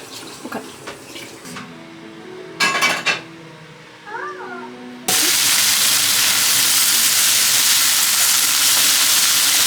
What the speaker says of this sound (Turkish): Sadece üstüne kaynar su koyuyorum, okey?